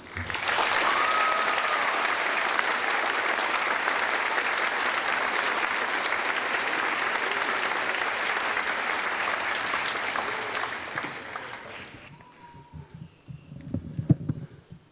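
An audience at a UCLA humanities commencement ceremony applauds a speaker, with loud sustained clapping that fades out near the end before a few close thumps and microphone handling noises.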